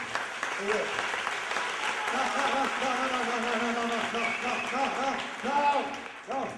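Circus show audience applauding, a sustained wash of clapping throughout, mixed with a voice and crowd noise, swelling slightly near the end.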